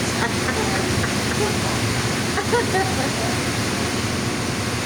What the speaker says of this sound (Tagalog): may hangin, may ulan